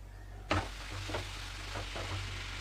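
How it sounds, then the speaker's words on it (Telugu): Red lentils and tomatoes fry in hot oil with a steady close sizzle, broken by a few soft stirring scrapes and a sharp onset as the tomatoes go in; no voices. "ఇది ఆయిల్లో బాగా కలుపుతూ ఫ్రై చేసుకోవాలి"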